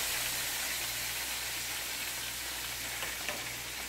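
Garlic ginger pork chops fry in a pan with a steady, close sizzle that holds continuously, with no pauses, while the second side caramelises.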